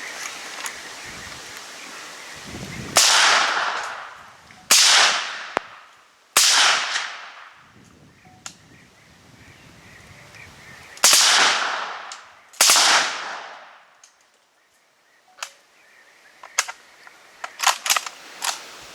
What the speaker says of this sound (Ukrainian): випробування на звук. Е, зброя у нас АК автомат Калашникова.